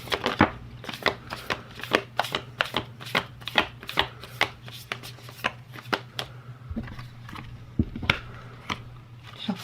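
Crisp, rapid riffling of an oracle card deck being shuffled by hand, repeated bursts of sharp flicks close by, no talking.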